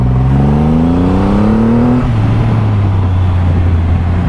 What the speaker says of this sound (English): Let's have a little brake test there